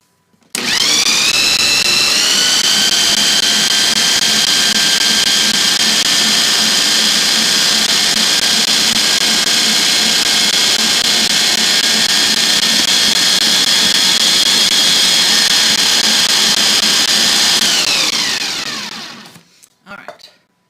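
Electric mixer whirs loud and steady for about seventeen seconds, blending salt and other dry ingredients for an almond kringle, then winds down to silence.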